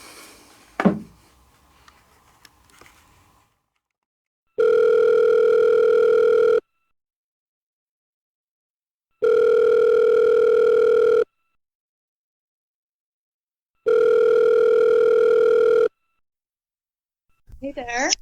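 A telephone ringback tone plays before a call connects: three long, evenly spaced tones separated by silence, loud and clean. Faint handling noises come first, and a voice begins at the very end.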